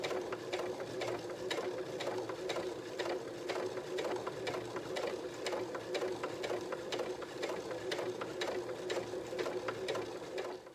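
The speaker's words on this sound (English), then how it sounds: "what it does is a line of stitching first, and then it comes back on itself and does a line of satin stitch" Sewing machine sewing a buttonhole, running a straight stitch line and then doubling back in satin stitch, a steady rapid needle clatter heard close and continuous throughout, with no voice over it.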